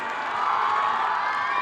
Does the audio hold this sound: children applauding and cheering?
yes